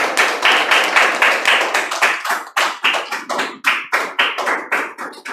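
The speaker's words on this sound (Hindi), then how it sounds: "तालियां होती रहे" An audience at a book launch event clapping together in a steady, rhythmic unison beat of roughly four sharp claps per second. The claps are close and loud, with no talking over them.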